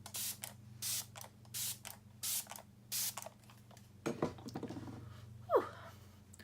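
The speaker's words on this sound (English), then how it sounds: "I'm just going to finish with spraying my face with MAC Fix Plus." MAC Fix Plus setting spray is misted onto a face in five short, hissing pumps at an even rhythm, followed by a few breaths and a quick exhale, close and quiet.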